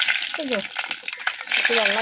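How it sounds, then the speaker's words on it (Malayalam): Fenugreek seeds fry in hot oil in a heated pan, a brief, steady crackling sizzle under a voice. "ചട്ടി ചൂടായി എണ്ണ ഒഴിച്ചു ഉലുവ പതിവ് പോലെ ഉലുവ"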